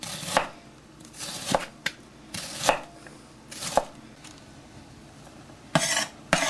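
A knife chops onion on a cutting board while spaghetti sauce is being prepared, giving sharp, close knocks in uneven clusters with short pauses between them, and no voices.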